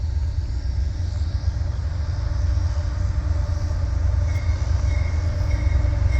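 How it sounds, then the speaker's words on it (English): A CSX Herzog work train led by two engines rolls northbound over a rail diamond crossing, a loud, steady rumble of wheels and cars with faint squeals, passing close by without talk. "And we do have a train, looks like it's heading northbound."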